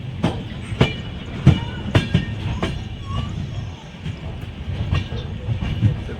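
A train rolls slowly along the rails, its wheels clicking over joints in an uneven rhythm against a steady low rumble.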